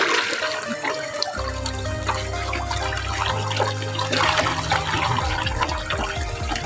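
Fish splash in a large pond inside an upazila park in Bhandaria. The water churns and sloshes steadily and close by, over a faint tonal background. No one speaks.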